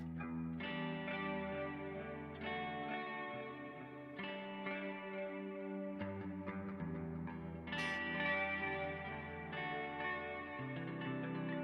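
An electric guitar plays a slow sequence of sustained chords through the smaller plate reverb setting of a Strymon Big Sky pedal, each chord blooming and trailing into a smooth, shimmering tail, moderately soft and with no voices.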